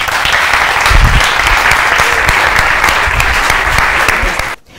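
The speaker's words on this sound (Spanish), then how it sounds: "yo os pido un aplauso para ella" A lecture audience gives a loud, dense round of clapping for a speaker, sustained evenly for several seconds before cutting off abruptly near the end.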